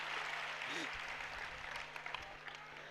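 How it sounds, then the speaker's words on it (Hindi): Sustained applause from a large audience at a Jain religious discourse in Indore, a steady, dense wash of clapping that carries through the whole stretch, with a low hum running underneath. "इसके लिए कैसे तालियां इतनी बज गई?"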